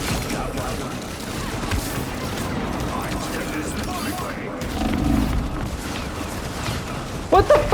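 Gunfire crackles through a hectic online shooter match in Rivals, with dense rapid shots and booms running throughout, a heavier burst swelling midway and sharp loud cracks at the end.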